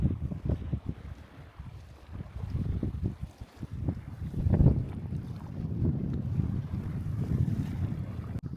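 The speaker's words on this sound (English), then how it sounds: "it's very windy" Strong, steady wind at the Tso Moriri lake viewpoint in Ladakh roars and gusts across the microphone, a broad rumbling buffet with a stronger surge midway, no voices.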